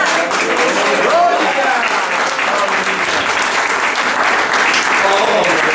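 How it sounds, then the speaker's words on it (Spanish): A church congregation at a Sunday school service breaks into loud, continuous applause that holds steady from start to finish, filling the room with dense clapping. "Denle un aplauso al Señor en esta hora."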